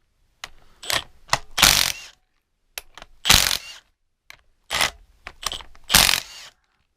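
A Milwaukee 2962-20 half-inch mid-torque impact wrench undoes tight bolts on a Dana 70 axle of a 1989 C3500, giving loud, close bursts of rattling hammering separated by silent gaps.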